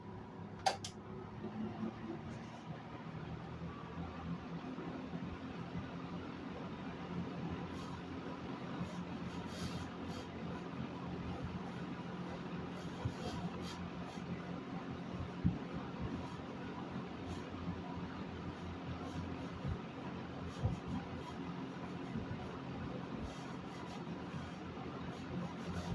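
A 1974 Lakewood 20-inch box fan, model P-42, runs with a steady low whooshing hum and a faint mechanical rattle. It plays alone at a moderate level with no talking.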